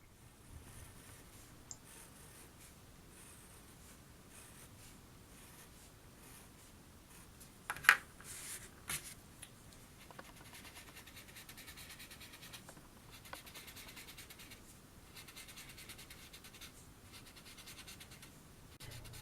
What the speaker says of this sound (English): run your pencil using the edge of the pencil right along the straight lines vertically and horizontally